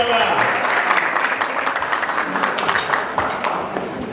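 An audience at an Arada TV good-deeds awards ceremony claps in a dense, steady burst of applause lasting a few seconds, with a voice speaking over it.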